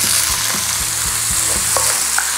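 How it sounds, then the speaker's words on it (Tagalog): Onion sizzling in hot oil in a pan for Filipino pork pata kare-kare, a steady loud frying hiss with a few stirring clicks and scrapes throughout. "Ihisa mo lang to ng 30 seconds."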